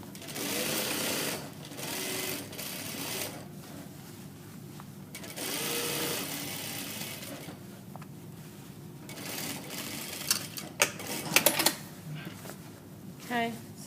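Sewing machine stitching in an invisible zip, running in several bursts of rapid stitching separated by pauses, with a person talking between the runs.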